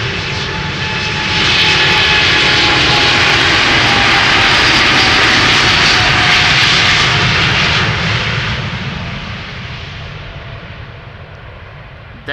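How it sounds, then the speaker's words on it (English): Finnair Airbus A350 jet engines at Amsterdam Schiphol Airport roar loudly past, swelling to a sustained broad rumble and whine before gradually fading over about twelve seconds. "the sound of the Finnair A350 will definitely wake you up"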